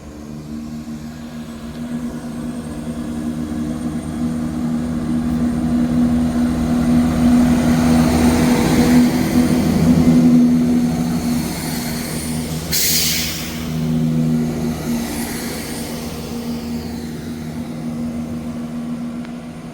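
A ScotRail service pulls out of Dalmeny station, its diesel engine droning steadily and swelling to a peak mid-way before easing off, with a brief hiss partway through; no voices.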